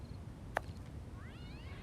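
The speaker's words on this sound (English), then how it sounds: "There is distant cat sound effects." A cat's meow sounds faintly and far off as a sound effect in a detective video game, one short rising-falling call after a brief click, over quiet background hiss.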